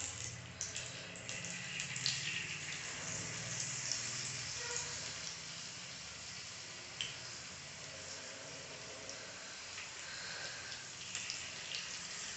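Jalebi made from dosa batter fries in hot oil, a faint, even bubbling hiss with small pops that runs continuously.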